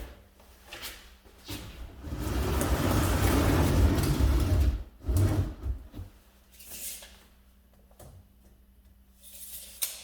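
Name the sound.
car falcon wing door opening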